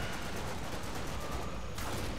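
Dense, continuous gunfire from the shooter video game The Darkness 2 fills the whole stretch at a steady, loud level, rapid shots blurring together with no talking.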